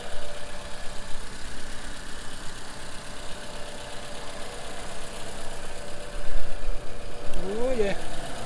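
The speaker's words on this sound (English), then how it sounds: "Engine sound very good." A 2014 Toyota Rav4 rebuilt after being wrecked idles at a steady, moderate level, with a brief rise in loudness near the end and someone talking over it.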